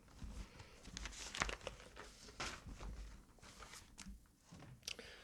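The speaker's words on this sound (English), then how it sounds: "let me just turn the page" Paper page of a church guide turned by hand, a faint close rustle and crinkle with a few soft flicks, quiet and brief.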